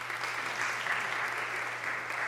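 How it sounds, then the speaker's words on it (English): Audience applause at a comedy hypnotist show at Barton College in Wilson, North Carolina, a steady wash of clapping at moderate distance that holds evenly throughout without a break. "Give them both a big round of applause."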